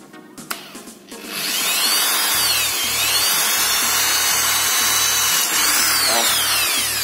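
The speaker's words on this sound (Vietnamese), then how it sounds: "Bây giờ mình sẽ khoan nha." A power drill bores into a coconut shell being made into a water ladle: after a few clicks and handling knocks it whines up loud and close, then grinds steadily for several seconds with a rising and falling pitch.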